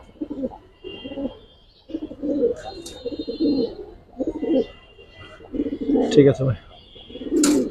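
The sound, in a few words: pigeons cooing, Giribaz highflyer pigeons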